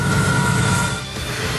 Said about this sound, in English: up to 12 iron ore trains a day travel to Port Hedland.